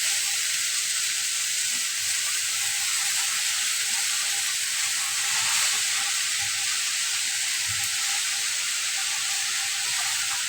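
Pechay (bok choy) sizzling in a small pan, a steady bright frying hiss throughout with a few soft stirring knocks, close and even, no talk.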